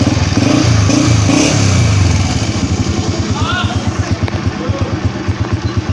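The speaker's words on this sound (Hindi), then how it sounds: "हमारी मोटर बाइक स्टार्ट हो चुकी है" A Honda CG 125 motorcycle engine idles nearby with a loud, steady chugging thump, revving briefly at first before settling into an even rhythmic putter.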